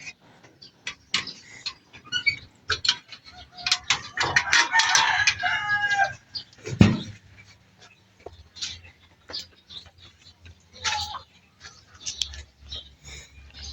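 Several gamefowl roosters crow one after another amid scattered clucking and chicken chatter, some near, others farther off, with quieter stretches between calls.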